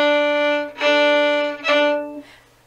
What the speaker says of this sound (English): The next very simple ornament that you can add to your folk songs is a cut.